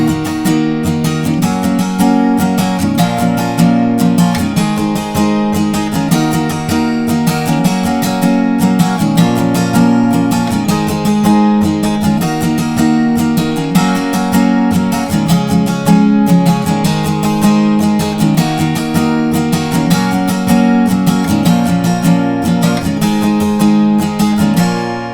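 Acoustic guitar strums the chorus chords of a song in a steady, driving rhythm, loud and close. Strings ring full with even, repeated strokes throughout, no voice over it.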